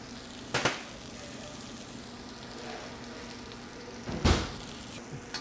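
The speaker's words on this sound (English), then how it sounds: "First, put in the mushrooms." Button and shiitake mushrooms stir fry in a pan with a steady low sizzle, broken by two sharp bursts of frying as the mushrooms go in or get stirred.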